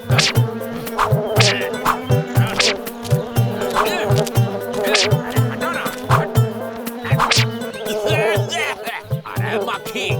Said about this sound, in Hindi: अरे मक्खी, हमारा दूध से दूर रहो।